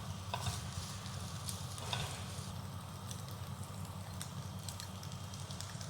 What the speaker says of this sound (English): We are not going to fry the liver for so long because we do not want it to be crispy.